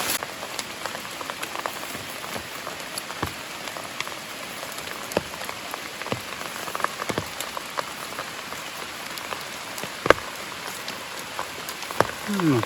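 Steady rain falls outdoors in a rural Thai setting during the mushroom season, a dense continuous patter with scattered louder drops and ticks close by, and no talking over it.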